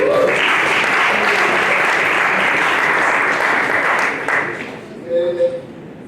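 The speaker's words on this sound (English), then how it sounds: "Just give a big round of applause again." A crowd at a community event with traditional leaders gives a big round of applause, loud dense clapping that carries for about four seconds and then fades out as a voice briefly begins.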